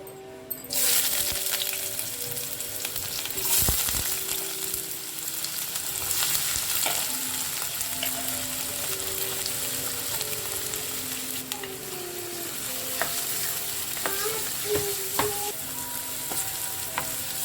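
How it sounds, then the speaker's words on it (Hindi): Finely chopped onions hit hot oil in a kadai and fry with a steady, loud sizzle, broken by occasional stirring scrapes and metallic clinks, with no talking. "ऑयल गर्म हो चुका है और प्याज को मैंने बारीक काट लिए थे, अब मैं वो ऐड करती हूँ"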